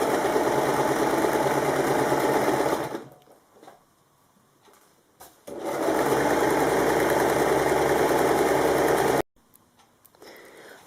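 A sewing machine stitches binding onto a kimono wrap top's neckline, running in a loud, steady drone for about three seconds, pausing amid faint handling noises, then running again for several seconds before stopping abruptly.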